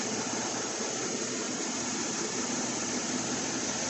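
A 2012 GMC Chevy 5.3 engine revs up during an oil pressure test, a loud, dense, steady roar held close without clear surges, and no voices.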